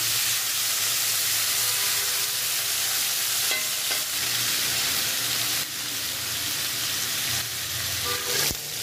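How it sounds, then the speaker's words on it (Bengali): Chicken sizzles and crackles steadily in a hot pan, with occasional stirring scrapes and a sharp clack near the end. "চিকেনগুলো যে ফ্রাই করে নিচ্ছি।"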